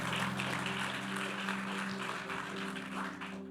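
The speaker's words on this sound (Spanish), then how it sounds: "Dale un fuerte aplauso al Señor," A church congregation applauds during a service, a dense, even clapping that carries on throughout beneath sustained musical tones.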